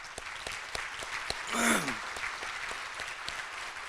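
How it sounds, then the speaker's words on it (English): A Rotary meeting audience applauds scholarship students with a steady patter of clapping and occasional crisp claps, fairly faint and distant, a brief whistle-like sweep rising briefly through the middle. "I would like to give them a special one more round of applause from me to you all."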